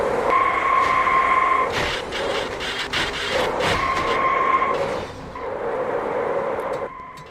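Race car tires squealing and skidding as it drifts in a racing video game, sustained screeches rising and cutting out repeatedly over engine noise.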